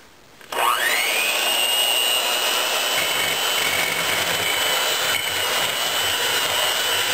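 An electric mixer whipping cream starts abruptly with a loud, steady, high-pitched whine that holds continuously and close up, with no talking.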